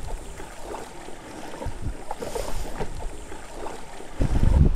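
A kayak is paddled across the water toward Champagne Beach on Espiritu Santo, Vanuatu: soft irregular paddle splashes and water movement under steady wind noise, louder gusting at the end.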